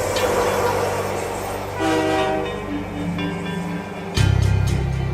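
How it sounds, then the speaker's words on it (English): A train pulls into a station with a low rumble and rail rattle, a sustained horn blast in the middle, and a louder, deeper horn near the end, all close and prominent. "The train pulled back into Io Falls station."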